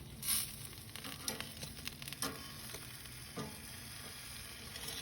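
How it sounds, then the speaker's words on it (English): Chicken thighs sizzle quietly and steadily on a Primo egg smoker grill, with occasional sharp crackles and pops rising above the soft frying hiss. "You can hear it sizzling."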